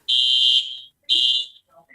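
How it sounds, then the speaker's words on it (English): A fire alarm goes off nearby, sounding two loud, shrill electronic tones about a second apart, each roughly half a second long, with a short fading tail. "see whether the fire alarm at Douglas is still going"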